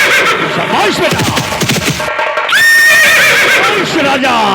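Horse neighing as a sound effect in a Hindi rural drama about a bandit riding through the forests, a loud, drawn-out whinny rising over dense background music and voices, with a second high whinny near the end.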